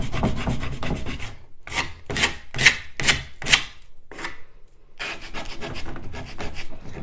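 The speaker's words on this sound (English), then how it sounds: "Let's really scrape up here and see what happens." Steady rough rasping as a tool scrapes paint from a beat-up, uneven wooden dresser, with a run of distinct louder strokes in the middle, close and continuous without talk.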